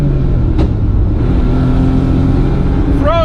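A 1991 Honda Beat kei car's three-cylinder engine revs hard on the road, a loud, close, steady buzzing drone held high in the rev range, with a brief sharp click early on.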